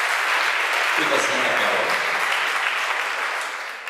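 Concert audience applauding steadily and loudly, with a dense wash of clapping that holds throughout and a voice speaking briefly over it.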